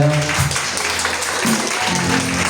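A church congregation at a Sunday service claps together, a continuous wash of applause mixed with voices that carry through the whole stretch.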